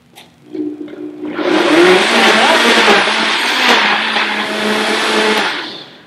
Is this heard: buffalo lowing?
no